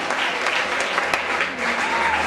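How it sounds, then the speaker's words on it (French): A church congregation applauds and cheers loudly and steadily, a dense wash of clapping sustained without a break from start to finish. "Acclamez fort pour le Seigneur."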